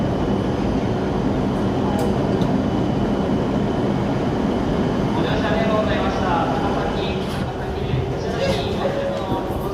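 A six-car Japanese bullet train roars past in a steady, loud rush of rail and wind noise that holds throughout, with faint voices talking underneath.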